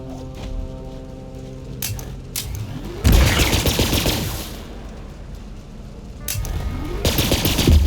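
Heavy gunfire aimed at the moon in Borderlands 3, two long roaring bursts of rapid shooting, each rising in after a brief lull with tonal game sounds, loud and close with no talk.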